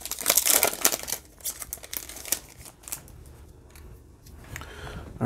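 Plastic card sleeve crinkling as a baseball card is slid into it, sharp crackles that are loud at first and then fade into sparse light rustles.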